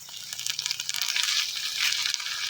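Vegetables sauté in a hot pan for a Filipino dish of bamboo shoots, chicken and saluyot, giving a close, bright, continuous sizzle with small crackling pops and no talking.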